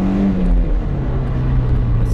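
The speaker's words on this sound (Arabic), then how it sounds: "طبعاً السيارة تتسارع" A Toyota Corolla with a 1.8-litre engine accelerates, its engine note rising steadily and holding loud and close throughout, with a voice talking over it.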